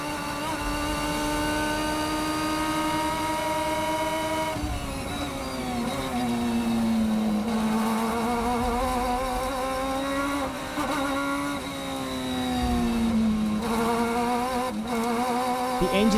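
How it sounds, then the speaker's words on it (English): A race car engine in a racing video game drones steadily and loudly, its pitch sagging and wavering as the engine fails and bogs down, with no talking over it. "The engine is failing."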